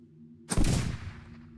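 A single loud revolver shot in the game Bloodrush: Undying Wish cracks out over a low steady hum and rings off in a long fading tail.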